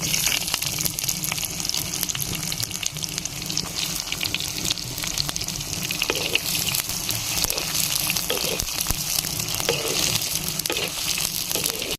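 Onions frying in oil with bay leaf, cardamom, cloves and cumin, a dense continuous sizzle and crackle lasting throughout, loud and close with occasional stirring scrapes and no voices.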